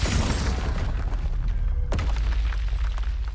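A Confringo fire spell from Hogwarts Legacy bursts in a loud, close explosion with a deep rumbling boom, followed by a sharp crack and a lingering low roar.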